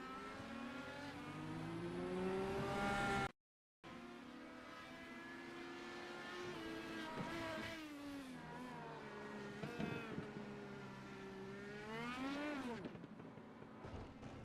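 Race cars at the Watkins Glen circuit roar past in turn, their engines rising and falling in pitch as they accelerate and pass, loud and fairly close, with a brief cut in the sound early on.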